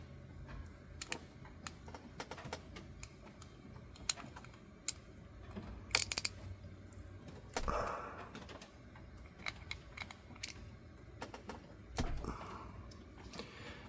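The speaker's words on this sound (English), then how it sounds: "Just break them loose with the ratchet." A ratchet breaks loose the small screws on a Microtech Stitch knife, giving a series of quiet, sharp clicks and ticks at irregular intervals, with a few louder snaps, close and faint.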